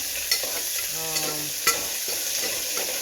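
Chopped onion and curry leaves sizzle in a hot pan with a steady frying hiss, punctuated by a few clinks and scrapes as the mixture is stirred.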